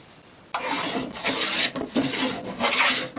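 A wooden hand plane, a jack or fore plane, takes heavy shavings from a board in several long rasping strokes, close and loud, with brief pauses between passes.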